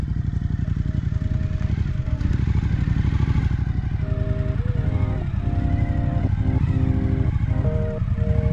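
A Suzuki motorcycle engine idles and runs close by with a steady, loud, rhythmic thrum. Faint tonal whines rise and fall over the engine in the second half.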